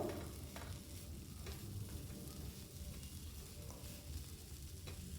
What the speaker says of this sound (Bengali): ওপর থেকে ধনে পাতা কুচি দিয়ে দিলাম দিয়ে খুব ভালো করে নাড়িয়ে নেব